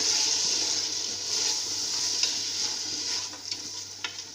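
Mutton daleem mixture being stirred in a pot, a soft steady scraping and swishing with faint sizzle underneath and a few small clinks near the end, no voices.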